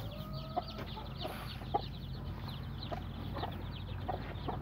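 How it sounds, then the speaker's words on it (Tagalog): Soft, high peeping from a group of native chicken chicks scattered over a steady farmyard background, with a few louder cheeps standing out. "Dami ng sisiw."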